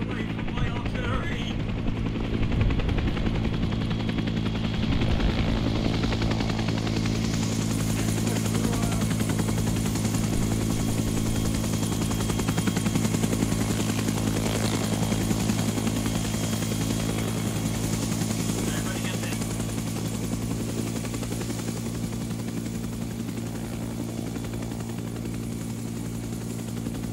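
Helicopter in ArmA 3 set in a jungle, a loud, steady rotor and engine drone throbbing continuously with faint distant gunfire beneath it.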